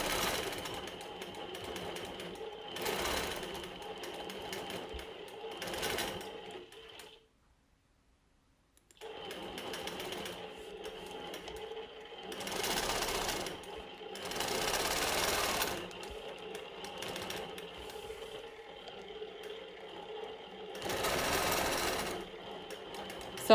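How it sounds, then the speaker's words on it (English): A longarm quilting machine stitches grid lines along a ruler with a steady, close mechanical whir and periodic louder surges, pausing once into near silence before resuming. "I'm going to start quilting in my grid lines. So I'm going to use my ruler as a guide"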